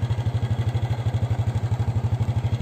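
A motorbike engine idles at a garden plot, a steady, rapid low thumping pulse close by and even in rhythm, running on alone without voices.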